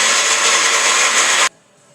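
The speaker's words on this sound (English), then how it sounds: "grind this up in the blender, get it going" A kitchen blender grinding kombucha ingredients, a loud steady whirring roar that runs and then cuts off abruptly, close and alone.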